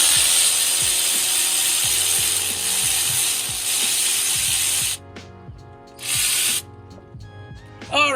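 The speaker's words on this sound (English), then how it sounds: "now we're gonna remove the bolts from the thermostat" A ratchet clicks rapidly and loudly in repeated bursts while removing the thermostat bolts on a 2006 Chevy Silverado 5.3 L. It works close up, pauses, then resumes with a few short strokes.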